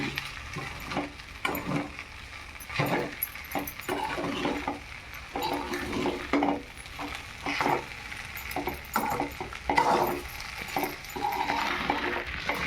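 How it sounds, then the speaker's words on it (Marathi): Sabudana khichdi for a fasting meal being stirred and sautéed in a pan, soft sizzling with repeated scraping and light clinks of a spoon against the metal, fairly quiet and close. "साबुदाणा व्यवस्थित परतून घ्यायचा"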